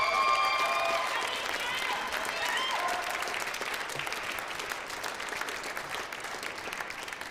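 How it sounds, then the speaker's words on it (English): An audience at the Canadian Open squash quarter-finals in 2022 claps warmly, a dense burst of applause that starts strong and slowly tapers, with no speech over it. "Let's just have a quick round of applause for Nikki, putting up a great fight."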